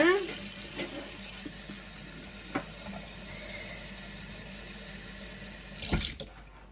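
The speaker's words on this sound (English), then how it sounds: "And then I'm going to add a little bit of water." Water trickles from a tap into fritter batter for salt fish fritters, a steady faint running stream with small clicks and a louder knock near the end, close and quiet.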